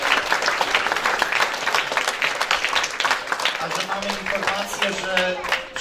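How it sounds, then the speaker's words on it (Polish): A crowd at a sports club's St. Nicholas Day event applauds steadily with dense, sustained clapping, while a voice speaks faintly underneath toward the end. "Także wielkie brawa dla wszystkich."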